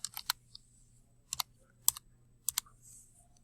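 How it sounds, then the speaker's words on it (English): Soft keyboard typing comes in a few small clusters of clicks with quiet pauses between them, faint and close, with no one speaking. "So I would just type that right here."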